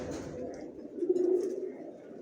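A racer pigeon in a loft gives a single low, drawn-out coo that swells in the middle, heard close over a faint background.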